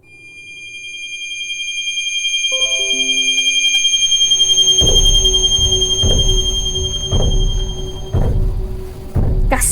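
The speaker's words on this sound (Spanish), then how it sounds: "Casi me dejo sorda ese pitido." A loud, sustained high-pitched electronic tone rings out in the horror RPG Fear and Hunger, layered with bell-like chimes and joined partway through by deep, rhythmic booming pulses that repeat about once a second.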